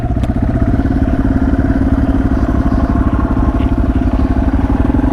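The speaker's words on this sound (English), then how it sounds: "I want you to hear its exhaust" A Yamaha TW200 or Suzuki DR650 motorcycle engine idles nearby with a steady, throaty exhaust rumble and a rapid pulsing beat, rocks rattling in the exhaust pipe, loud and continuous throughout.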